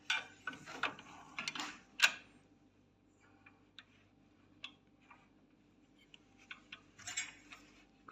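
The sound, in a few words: tightening a bolt while setting up a panel saw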